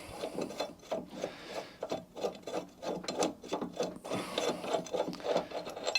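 A cordless drill backs off the bolt to remove the old blade from a Mountfield lawnmower, giving rapid ratcheting clicks and whirring pulses in quick repeated bursts, close and fairly quiet.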